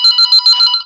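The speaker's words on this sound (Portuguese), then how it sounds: "vamos atender o telefone, porque senão é chato. Tá tocando." A telephone rings in a home, a bright electronic trill pulsing in four or five quick bursts, close and loud with nothing else around it.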